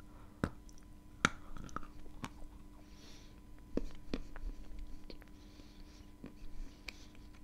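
Close, quiet chewing of crunchy kaolin clay: sporadic crisp bites and crunches with soft mouth noises between them, no talking.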